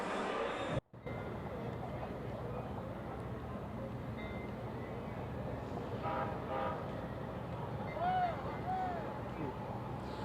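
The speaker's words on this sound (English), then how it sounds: "One of the Metro rails just now arriving with fans that are trying to make their way" A Metro light rail train arrives at a station outside Houston Stadium, its steady rumble and rolling rail noise continuous and fairly loud, with a brief squeal of wheels near the end.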